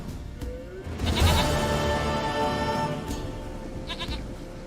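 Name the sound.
goat bleating in video game The Witcher 3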